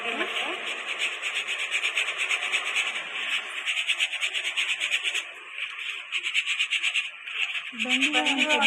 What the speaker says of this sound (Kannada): ನೋಡಿ ನಾವು ಸಾಣಿಸ್ಕೊಳ್ತಾ ಇದ್ದೀವಿ